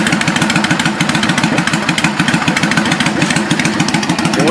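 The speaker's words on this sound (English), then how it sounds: "But anyway, let's start the bike." A 2008 Yamaha V-Star 650 motorcycle engine running at a loud, close, steady idle with an even rapid pulsing throughout, no voices.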